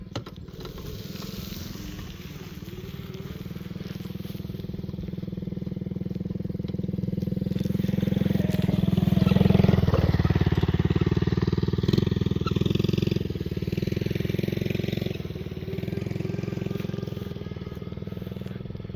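A Vevor 36-volt electric dirt bike is ridden nearby, its low motor whine swelling and easing as it passes, with faint rattling and outdoor background noise.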